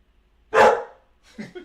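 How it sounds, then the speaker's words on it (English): A single loud, close dog bark, followed a moment later by a softer, shorter bark or grunt. "He barked at me."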